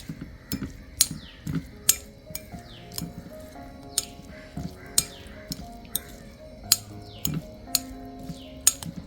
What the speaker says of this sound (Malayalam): ഇനി ഇതുകൂടി ചേർത്തിട്ട് നന്നായിട്ടൊന്ന് ഇളക്കി കൊടുക്കാം